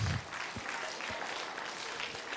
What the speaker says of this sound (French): On peut applaudir ça, tout le monde?